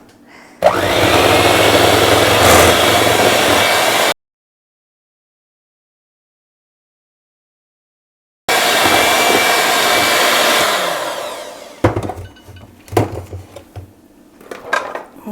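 An electric mixer beats egg yolks with vanilla for a pink doughnut batter, giving a loud, steady close whir that runs in two bursts separated by a silent gap, then scattered clinks as the beaters stop.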